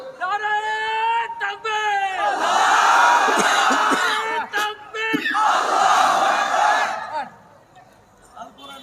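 At a religious gathering, one man calls out the takbir and a large crowd roars back 'Allahu Akbar' in two loud, sustained chanted waves that then fade away.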